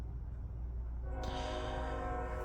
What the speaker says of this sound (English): Ignore that train horn.